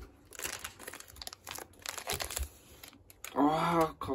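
Crinkling and tearing of a One Piece Film Red card game pack wrapper, with close rustling and ripping bursts that give way to a voice near the end.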